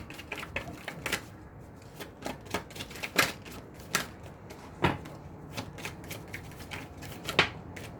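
Tarot cards shuffled and drawn by hand during a reading, giving crisp, irregular flicks and snaps close by, with sharper card slaps punctuating a soft papery rustle and no talking.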